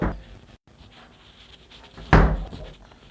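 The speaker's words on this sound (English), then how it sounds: "Let's just close the door." A door swings shut with one solid, close thump after a quiet stretch, as someone comes back inside from the cold outdoors.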